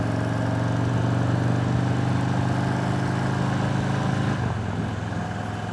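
Motorcycle engine idling while hitched to a camper trailer, a loud, close, even low rumble that holds steady and then drops slightly near the end.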